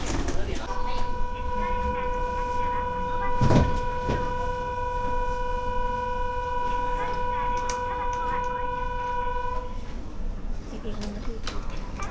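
Rumbling noise of a train about to depart in Japan, with a steady, sustained tonal whine lasting several seconds, while people talk nearby.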